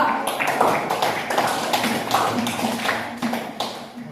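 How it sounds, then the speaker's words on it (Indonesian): Students in a classroom clapping for group 2, a brisk, uneven round of hand claps from a small group, fairly close, with faint voices underneath. "tepuk tangan untuk kelompok 2"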